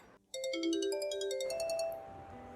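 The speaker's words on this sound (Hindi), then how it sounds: "लगता है मेरा फ़ोन बज रहा है, मैं देखती हूँ।" A mobile phone rings indoors with a melodic electronic ringtone, a sequence of bright tonal notes rising and shifting, heard fairly close and alone without talk.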